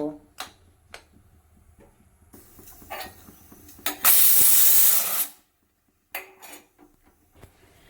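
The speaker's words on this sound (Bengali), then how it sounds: "এবার প্রেশারের ঢাকনি ঢাকনি লাগিয়ে দেব আর এবার ওয়েট করব যতক্ষণ সিটি পড়ছে" A pressure cooker's lid hisses out a burst of steam, a loud sharp spray lasting about a second, amid clinks of pots and utensils and brief kitchen clatter; a person talks in between.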